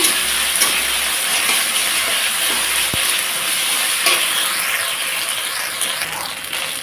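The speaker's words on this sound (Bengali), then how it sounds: "মশলাটাকে দিয়ে একটু ভালোভাবে কষিয়ে নেব" Ground ginger and cumin paste fries in a hot pan, a loud continuous hissing sizzle with occasional spatula scrapes and stirs, close up with no talking.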